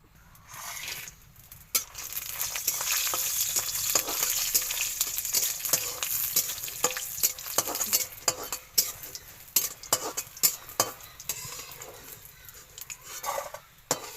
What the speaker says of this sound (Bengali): এর আমি তেল দেবো দিয়ে আমি বড়ি ভেজে নেবো আর চিংড়ি মাছটা ভেজে